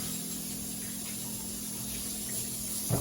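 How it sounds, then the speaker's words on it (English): Tap water runs steadily into a kitchen sink while food for a Jamaican salt mackerel rundown is rinsed. The flow is a constant, moderately loud hiss, with a brief splash near the end and no talking. "So now I'm going to wash them off."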